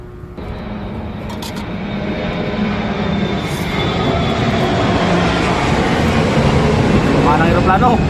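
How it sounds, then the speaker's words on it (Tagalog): An airplane roars overhead, a loud broadband rumble that swells steadily and stays heavy, close and dominant throughout, with a voice briefly heard beneath it. "Mga ng aeroplano, maingay."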